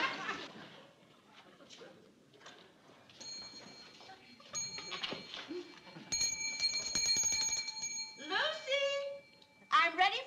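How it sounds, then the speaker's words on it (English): A small bell rings in a quick metallic jangle amid talking voices, with a couple of short ringing bursts near the middle. "if I don't jump every time she rings that bell"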